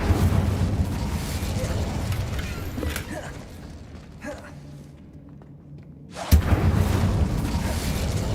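A Bombarda spell explodes in the Hogwarts Legacy video game: a dense rumbling roar fades into a quieter lull, then a sharp, loud blast bursts out near the end and sustains as heavy crackling rumble.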